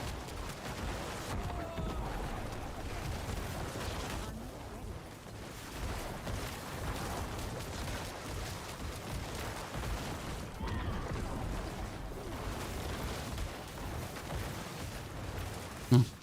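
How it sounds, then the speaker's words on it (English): Corpse explosions from a Shadow Wave Necromancer in Diablo 4 Season 3 burst continuously in dense, overlapping blasts, forming a steady wall of loud combat noise across the whole stretch. "I saw 5 million corpse explosion, Chan."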